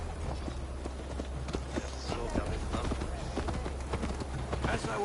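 A horse gallops in Assassin's Creed Valhalla, quick drumming hoofbeats running beneath a low rumble, with voices talking over them.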